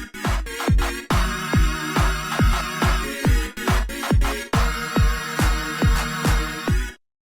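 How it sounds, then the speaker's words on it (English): Two loops play together in Bitwig: a bright, sustained synth loop over a punchy drum beat loop with regular kick hits, steady and loud throughout until it cuts off near the end. "There's a synth and a beat"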